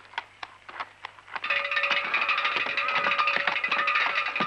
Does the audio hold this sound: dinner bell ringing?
yes